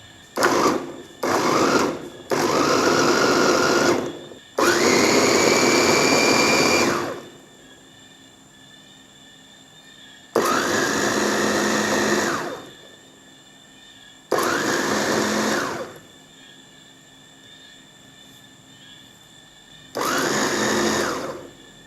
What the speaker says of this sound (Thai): แล้วเราก็จะมาเริ่มปั่นกันเลยนะครับ การปั่นนะครับ ทุกคนไม่ต้องปั่นให้มันละเอียดมากนะครับ